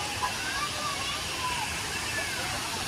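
Ba Si waterfall in Kon Tum, Vietnam, roaring as a steady, even wash of broadband rushing water heard from nearby, with faint voices blended into the constant noise.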